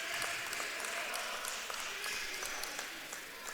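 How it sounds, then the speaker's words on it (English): Spectators applaud at a men's college basketball game between San Mateo and College of Alameda as players check out, a faint, distant, steady patter of clapping in a gym. "a nice round of applause for some of these San Mateo players checking out for the final time this season"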